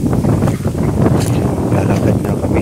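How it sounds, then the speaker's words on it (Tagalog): Steady wind roaring and buffeting against the microphone outdoors, constant and loud throughout with no clear voices. "Ayan, sarap ng hangin."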